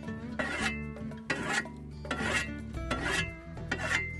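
A hand file rasps along the edge of a shovel blade being sharpened, with steady back-and-forth strokes repeating about every second, close and moderately loud.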